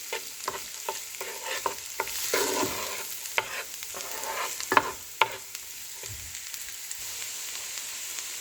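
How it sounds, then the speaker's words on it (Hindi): Chopped onion sautéing in melted butter: a soft continuous sizzle under repeated clicks and scrapes of a spoon stirring against the pan, close and moderately loud throughout, with no voices. "इसको मैं इसमें डाल दूंगी और इसको मैं सौटे करूंगी जब तक कि ये सॉफ्ट ना हो जाए"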